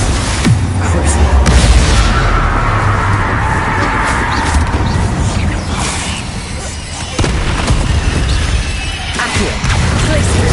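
Spells cast in the game Hogwarts Legacy burst in quick succession: dense, loud booms and blasts with cracking hits and whooshes, layered over continuous combat noise, with a voice shouting throughout.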